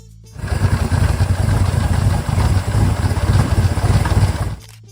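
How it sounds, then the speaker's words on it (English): A Chevrolet 427 L88 big block V8 from a Corvette starts up loud and close, settling into a deep, lumpy, throbbing run with slight rises in revs before cutting off abruptly near the end. "Chevrolet's L88 represented their ultimate Corvette big block"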